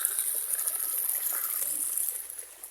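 Clean water runs in a steady trickling stream toward a rural fish pond, a continuous light splashing flow heard close, with no speech.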